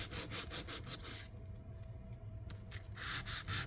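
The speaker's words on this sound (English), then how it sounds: "I guess your sandpaper is going to make scratch marks" Sandpaper rubbed by hand in one direction across a folio cover, a repeated near scratchy rasping in steady back-and-forth strokes that pauses briefly midway before resuming.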